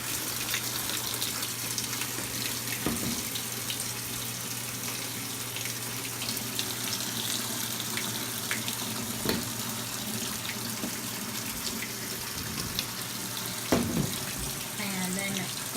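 A washing machine fills with rushing water for a cold cloth diaper wash in hard water, a steady broadband gush that runs throughout with faint intermittent thumps.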